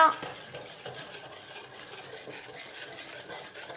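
A spoon stirs a cake cream mixture in a bowl, making continuous quiet scraping and clicking strokes at an even pace, close and faint throughout.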